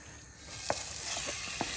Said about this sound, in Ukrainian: нашу курочку, яку ми порізали соломкою, відправляємо першу в сковорідку.